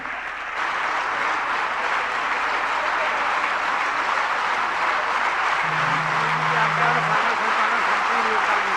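An audience at a Jain religious discourse gathering applauds in a steady, sustained wash of clapping that runs loud and even from start to finish.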